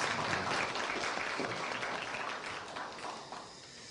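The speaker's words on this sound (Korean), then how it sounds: "우리 은혜로운 찬양을 해주신 우리 상가대 그리고 관현악 하는 분들에게 여러분 감사의 박수 다시 한번 하겠습니다." University chapel attendees clap in thanks for the choir and orchestra; the applause is moderately loud and steady, gradually thinning toward the end without speech.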